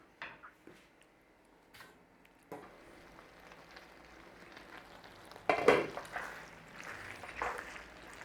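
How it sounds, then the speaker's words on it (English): Parmesan cheese being stirred into chorizo pasta in a single pot, giving soft scraping and stirring with a low sizzle, plus a few light knocks early and a louder burst of stirring partway through. "So let that give it a little bit of a melting on there, and then we'll stir it in."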